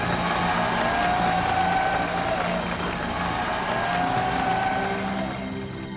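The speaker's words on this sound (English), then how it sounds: "President John Fitzgerald Kennedy rides through Waikiki in the same car" An open presidential motorcade car rolls through Waikiki, with a steady engine and road rumble that swells and fades as vehicles pass at moderate distance over about six seconds. No voices are heard.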